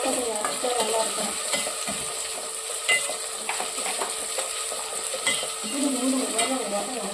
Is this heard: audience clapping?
no